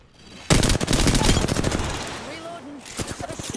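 Rapid automatic gunfire in a video game battle on the Olympus map, loud and close, a dense rattling burst that trails off before another short volley, with faint background tones.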